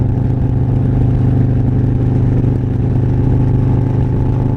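A Harley-Davidson M8 114 motorcycle engine with an S&S 475 cam, cruising around 60 mph on light throttle: a loud, steady, deep rumbling drone with an even, throbbing pulse that holds constant throughout.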